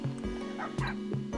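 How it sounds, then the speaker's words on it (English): Minecraft mobs making dog and cat noises, a quick run of sharp bark-like yips repeating about every third of a second, loud and close with no talk over them. "Now that they're in here, they're making mostly dog and cat noises"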